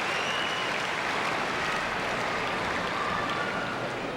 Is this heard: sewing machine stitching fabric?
no